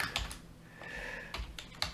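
Fingers tap out a short run of keys on a computer keyboard, quick close clicks in small bursts with a brief pause in the middle.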